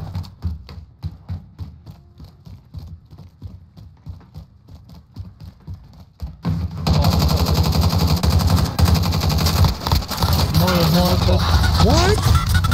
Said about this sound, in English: I was shooting right at that guy